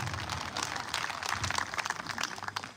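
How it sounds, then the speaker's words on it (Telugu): A church congregation claps in praise, a dense, continuous spread of many hands heard moderately close and steady throughout. "చప్పట్లు కొట్టి దేవునికి స్తోత్రం చెప్పండి."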